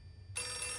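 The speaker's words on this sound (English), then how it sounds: "that phone is still just a-ringing" A telephone rings in the horror video game Outlast 2, a sudden bright electronic ring that starts partway through after quiet low rumble.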